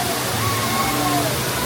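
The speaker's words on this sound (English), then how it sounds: "I do like this chair swing with the water effect." Water sprays and splashes steadily from the water effect on a chair swing ride at a theme park, a loud, dense rushing wash with faint voices beneath.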